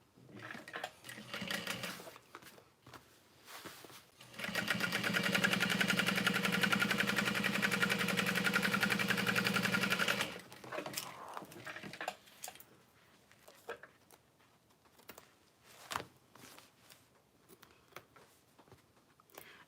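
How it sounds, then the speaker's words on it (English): Sewing machine top stitching a handbag, running in one steady loud burst of several seconds, with quieter handling rustles and clicks before and after. "folding that down and top stitching."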